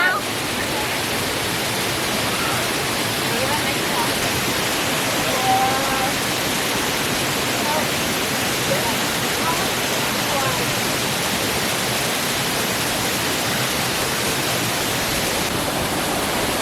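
Waterfall in the El Yunque tropical rainforest, a steady broadband roar of falling water filling the scene continuously, with occasional voices faintly underneath.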